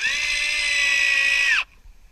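A power driver sinks a 3/8 inch ledger lock screw into a recycled-lumber deck frame, whining steadily and loudly for about a second and a half before stopping, with quiet after.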